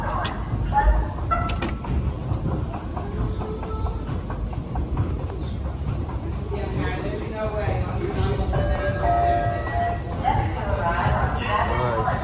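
A New York City subway train pulling into Bowling Green station, a rising rumble with clattering wheels and squealing brake tones under nearby talk that runs through the whole arrival.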